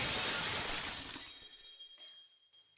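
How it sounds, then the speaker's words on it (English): Heavy object smashing through a storefront glass window: one loud shattering crash at the start, then falling shards and tinkling debris fading out over about two seconds. "Suddenly, something heavy crashes through the glass. The storefront window is shattered."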